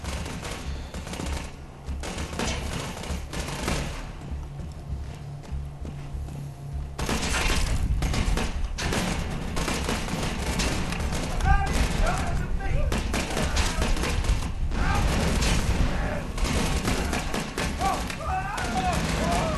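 Homing dart pistol in Borderlands 2 firing in steady bursts, its darts exploding a moment later amid continuous loud game combat, with a voice talking over it.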